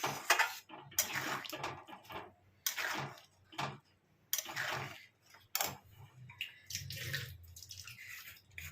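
Soupy pasta with pepper being stirred in a pot, giving repeated clinking and scraping bursts of utensil against metal in an irregular rhythm, close and fairly loud, with a wet, liquid swish between strokes and no talking.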